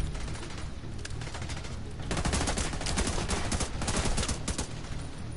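Gunfire in The Division 2 opens with faint background action, then erupts midway into loud, rapid automatic bursts that crackle continuously near the listener.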